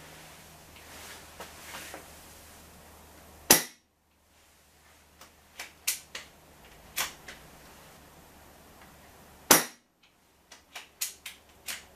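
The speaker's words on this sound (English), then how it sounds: "what I'm going to do now is fire the shots off through the chrono" Falcon Prairie air rifle shots fired through a chronograph: two sharp, loud cracks several seconds apart, close by, among scattered softer clicks and knocks of handling in a quiet room.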